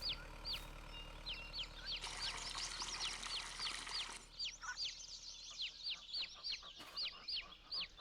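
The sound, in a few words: chickens clucking in Farming Simulator 22 video game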